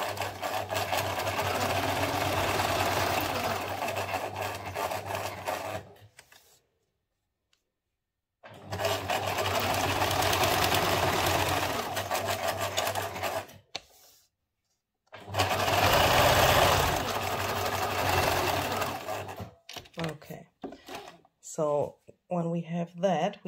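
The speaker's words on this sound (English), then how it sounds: "So I will first do some zigzag stitching around the photo here." Sewing machine running zigzag stitches around a photo on paper ephemera for a Halloween junk journal, heard as three sustained loud whirring bursts separated by short silences, with brief talk near the end.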